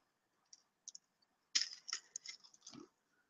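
A cracker crushed by hand gives a short run of dry, crackling crunches after a few faint isolated clicks, close and quiet, with no talking.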